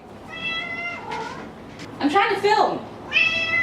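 A house cat meows in loud, drawn-out cries near the start and again at the end, with a person talking briefly in between.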